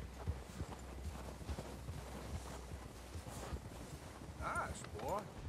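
Horse hooves clop at a walking pace in Red Dead Redemption 2, faint beneath a steady breeze, with a few short higher tones near the end.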